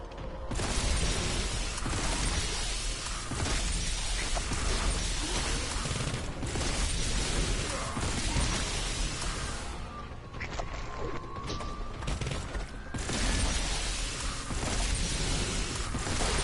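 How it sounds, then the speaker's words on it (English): A grenade blast amid battle in the Warhammer 40K Boltgun shooter game, heard within a loud, sustained wash of gunfire and crashing impacts that barely lets up. "Grenade!"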